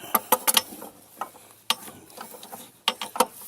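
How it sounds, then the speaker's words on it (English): A large adjustable wrench breaks loose the fan hub on a 2004 Chevy Trailblazer during a water pump replacement. A few sharp metallic clanks and clicks sound close by, with no talking. "Using a large adjustable wrench. And break that thing loose."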